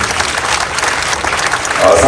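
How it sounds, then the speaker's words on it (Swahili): An audience claps for the governor at a Menstrual Hygiene Day celebration in Busia, a dense, loud burst of applause from a crowd indoors, with voices mixed in. "Makofi kwake jamani."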